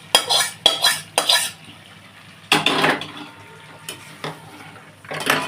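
Leftover butter and oil from frying eggs is poured into a wok, with several sharp bursts of metallic scraping and clatter separated by quieter gaps.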